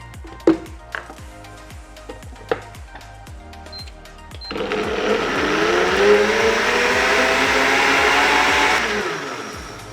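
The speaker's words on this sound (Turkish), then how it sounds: "ve blenderdan geçiriyoruz" A few sharp clicks and clatters, then a blender motor whirs up loudly, blending a drink with vanilla syrup, and runs steadily for several seconds before winding down.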